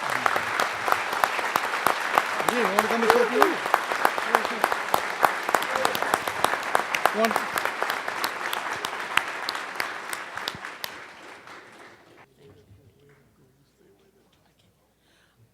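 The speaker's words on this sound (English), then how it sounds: "Please, a big round of applause to the number one elected official in the city of Oakland, the Honorable Mayor Jean Quan." A lecture-series audience in Oakland gives a big, loud round of applause for the mayor, with dense clapping for about eleven seconds before it fades out, a voice speaking briefly over it.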